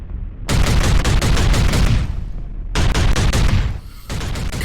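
Combat in the Hellscreen video game: loud, dense bursts of rapid gunfire with booming shots, two long volleys separated by a brief pause, then another burst starting.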